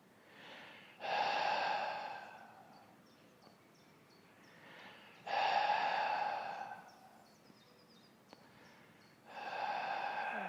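Strong audible exhalations and inhalations during a Pilates knee-to-chest exercise. Three long forceful breaths come through close to the microphone, each separated by quieter pauses filled with faint breathing.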